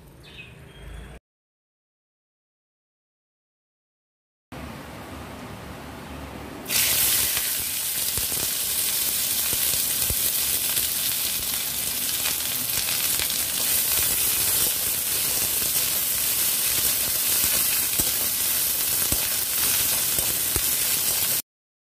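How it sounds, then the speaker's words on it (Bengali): Chopped onion frying in oil tempered with panch phoron and dried red chillies, a dense steady sizzle that jumps louder partway through and continues evenly to the end, after a brief silent gap near the start. "বেশ কিছুক্ষণ নাড়াচাড়া করে পেঁয়াজগুলো একটু লালচে করে ফ্রাই করে নেব।"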